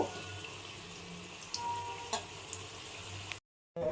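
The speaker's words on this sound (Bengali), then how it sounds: "দেখো প্রায় আলুটা ভাজা হয়ে গেছে, এবার নামিয়ে নেব" Potatoes fry in a pan of spiced oil with ginger, garlic and dried red chillies: a steady close sizzle with a few soft clinks, cutting out briefly to silence near the end before resuming.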